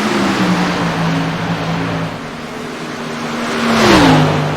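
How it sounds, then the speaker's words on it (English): Race cars in the iRacing sim slide sideways out of turn two, engines droning loud and steady with a sustained tonal whine that rises and then dips near the end, with broadband road and tyre noise underneath and no talking. "He can taste the victory as both cars are slideways out of 2."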